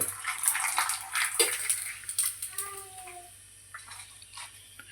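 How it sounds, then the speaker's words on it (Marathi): Homemade rava papad fry in hot oil, a busy crackling sizzle with bright bubbling hiss that gradually settles and thins toward the end, close and alone without speech. "तर मित्रांनो अजून तळून घेऊया पापड"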